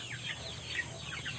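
Backyard chickens gathered for food cluck and chatter over a constant hum, a dense, moderately loud flock sound through the short stretch.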